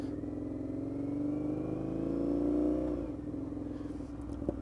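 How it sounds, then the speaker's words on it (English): Indian FTR 1200 motorcycle engine rumbling and rising in pitch as it accelerates along a small-town road, then dropping off as the throttle closes, with a single faint pop near the end. "can you hear it backfiring?"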